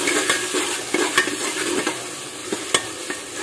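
Tomatoes stirred into softened onions frying in a pan for pav bhaji, a steady loud sizzle broken by several sharp scrapes and clinks of a spoon against the pan, with no talking.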